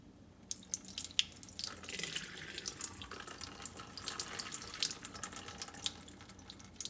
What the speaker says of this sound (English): So we are drain the water out.